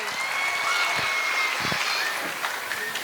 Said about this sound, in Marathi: जोरदार टाळ्या अनुषा मॅमसाठी व्हायला पाहिजे